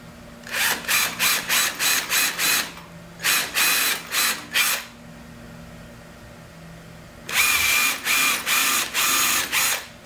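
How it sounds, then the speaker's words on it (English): A power drill countersinks screw holes in a teardrop trailer galley hatch, whirring in short repeated bursts: a run of quick pulses, a pause, another group, then a louder final set of bursts. "I'm going to get started on countersinking these screws."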